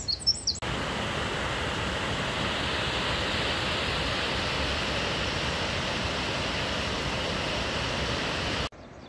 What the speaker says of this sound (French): C'est précisément à cet endroit que on entend plus qu'on ne voit le torrent de